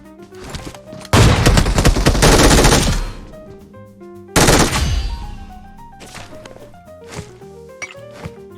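Machine gun in the PUBG game, firing two long loud sustained bursts, then reload clicks and metallic handling sounds and a few softer thuds, close and dominant.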